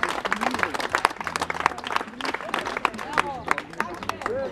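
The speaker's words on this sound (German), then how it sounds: "Und wie die Leute halt klatschen beim Spaziergehen" Scattered hand clapping from people walking outdoors along a street in Salzburg, irregular bursts of claps under a steady murmur of crowd chatter and voices throughout.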